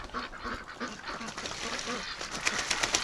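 Ducks on a breeding farm make a busy mix of quacks and honking calls, fairly close and overlapping throughout, with a few louder calls near the end.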